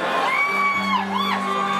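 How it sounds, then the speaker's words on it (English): Girls in a live concert audience at the Bridgeway Hotel scream and whoop in high, sliding cries that rise and fall, loud and close, with crowd noise beneath. "if we could have some of the girls joining in on the screaming"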